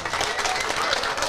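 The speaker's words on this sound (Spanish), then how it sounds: "Que se sienta el aplauso." Audience applause at a town hall accountability event, a dense wash of steady clapping from a crowd, loud and continuous throughout, with voices mixed in underneath.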